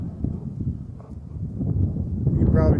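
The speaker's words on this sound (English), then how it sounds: "But maybe you can hear the wind noise too" Strong gusty wind outdoors in a parking lot on a stormy day buffets the microphone in a continuous low rumble that swells toward the end.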